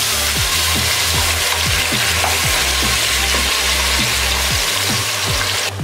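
Loud, steady sizzling of ginger, garlic and onion paste frying in a hot pan, with repeated scraping stirs throughout.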